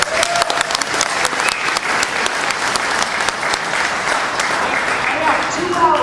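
An audience at a public meeting on boat closures at Lake Havasu claps and shouts, with loud, dense, sustained applause and crowd noise mixed with voices.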